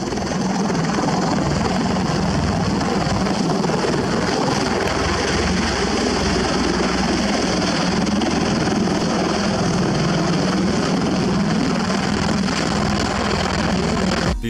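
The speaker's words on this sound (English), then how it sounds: "This helicopter was taking off in England when suddenly the wind created from the rotors destroyed the helipad beneath it." Helicopter lifting off from a helipad in England, its rotor downwash roaring as a loud, steady engine drone with a low beating throb, continuous and close throughout before cutting off abruptly at the end.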